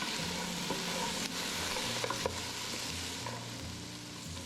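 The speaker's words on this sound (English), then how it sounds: "At this point, I let it brown slowly, stirring occasionally as it released its natural juices." Meat browns slowly in a pan in a Kenyan home kitchen, a steady soft frying sizzle with occasional faint clicks of stirring, heard alone and fairly quiet.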